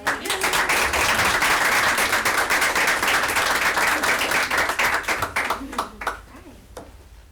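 A round of applause fills a school committee meeting, dense and loud clapping from the group that thins out toward the end into a few scattered claps.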